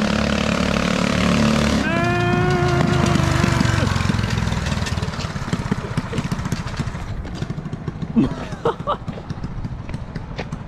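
A small, loud four-wheeler engine drones nearby, climbing in pitch through a hard rev, then fading into rough, uneven running, with voices and a shout over it.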